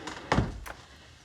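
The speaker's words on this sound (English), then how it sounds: "Please close the door." A door is shut indoors in a drama film: one soft wooden thunk, followed by a lighter knock a moment later, fairly faint against a quiet room.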